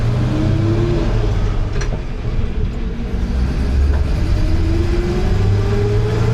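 An old Chevy C30 square body single cab truck with a stick shift engine revs loudly and steadily, a deep mid-range rumble rising and falling close by throughout, with no talk.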